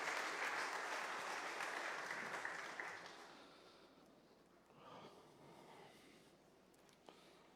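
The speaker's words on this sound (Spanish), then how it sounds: "Dale palmas al Señor." A church congregation claps for the Lord during a service, a dense, steady burst of applause that fills the room for about three seconds and then thins into scattered claps and quiet room noise.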